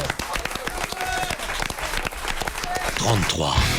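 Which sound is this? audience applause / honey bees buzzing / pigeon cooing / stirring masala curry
audience applause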